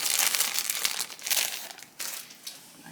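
A bag of marshmallows is torn open by hand, giving several bursts of loud crinkling and crackling plastic close to the microphone, with no talking.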